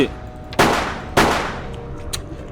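Two sharp, loud gunshots about half a second apart in the video game ÜberSoldier, each with a short decaying tail, then quieter background game noise.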